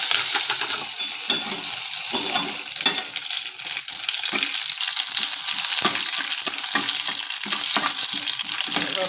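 Horse gram being tempered in mustard oil, a loud continuous close sizzle with frequent metallic stirring clinks from a spoon against the pan, no talking heard.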